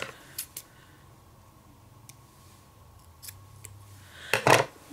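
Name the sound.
cutting a sticker with scissors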